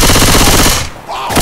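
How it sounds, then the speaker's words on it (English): In Left 4 Dead 2, a loud, dense stream of rapid gunfire fills the scene, breaks off briefly for a moment of near-quiet, then resumes. "Reloading. Hit it! Nice shot, Cole."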